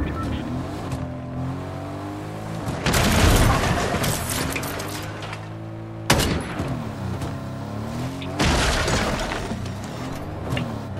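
Fortnite gunfire in several loud bursts over the steady drone of an in-game vehicle engine, with sharper volleys near the middle and end.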